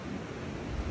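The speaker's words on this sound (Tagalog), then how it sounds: "napakalakas na hangin sa paligid, ayan o, wow, sa sobrang lakas, sumasayaw ang mga puno." Strong winter wind sweeps outdoors in Canada, setting trees swaying, a steady loud roar of gusting air buffeting the microphone throughout with no voices.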